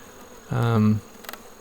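Honeybees from a collected swarm buzz inside an isolation cage, one loud close burst of droning lasting about half a second, then faint background hum.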